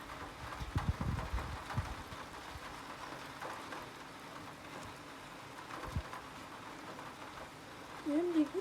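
Rain with hail during a moderate to strong thunderstorm makes a steady hiss of falling drops, with a few louder knocks early on and a brief voice near the end.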